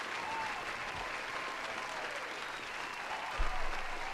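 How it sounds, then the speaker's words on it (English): Audience applause at a gaming show, a steady sustained clapping wash heard at moderate distance, continuing evenly for several seconds without voices on top. "Another round of applause there."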